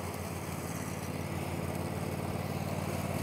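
A Caiman Rapido Max Eco garden tractor mows a lawn, its engine running in a steady, loud, close drone with the blades whirring throughout.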